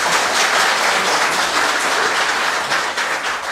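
Indoor audience at a public policy forum on rental housing claps steadily, a continuous dense wash of applause from many hands, fairly loud throughout.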